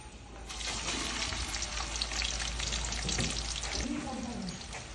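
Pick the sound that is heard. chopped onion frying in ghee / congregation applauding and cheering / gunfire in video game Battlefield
chopped onion frying in ghee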